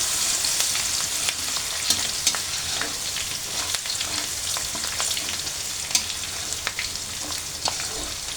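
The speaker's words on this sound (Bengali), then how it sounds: "হালকা একটু রসুনটা ভাজা ভাজা হয়ে গেলে" Crushed garlic frying in hot oil for a raw mango pickle gives a steady, close sizzle for the whole stretch, with scattered sharp pops and a few stirring scrapes, and no voices.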